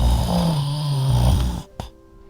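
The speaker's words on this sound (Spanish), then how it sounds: "su ronquido hacía temblar la cama." A loud, deep dinosaur snore made as a sound effect for a children's bedtime story, one long rumbling breath that fades into a short snort, with no talk.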